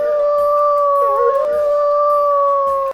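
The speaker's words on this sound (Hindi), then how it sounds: "लोमड़ी जोर जोर से चिल्लाने लगी।" A fox howls loudly in one long, sustained cry that holds steady for about three seconds before cutting off abruptly, with no other sound around it.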